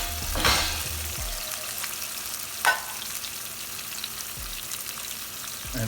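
Small potato pieces fry on very high heat with salt, pepper and rosemary, giving a steady close sizzle with a few louder spits and pan stirs, and no talking.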